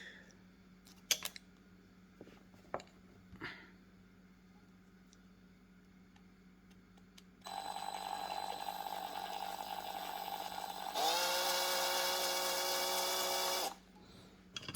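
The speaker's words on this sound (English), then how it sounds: "I need to make a hole here, so drill time" A power drill whirs steadily for several seconds, then shifts to a higher, louder whine as it bites into an LG Magic Remote, stopping abruptly after a few quieter clicks and knocks.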